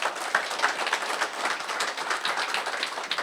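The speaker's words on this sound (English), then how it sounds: "a big round of applause" An audience breaking into a steady round of applause, many hands clapping together in an even, sustained wash that goes on throughout with no voices over it.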